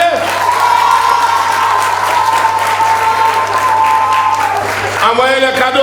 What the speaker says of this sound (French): c'est comme ça que vous applaudissez les mariés?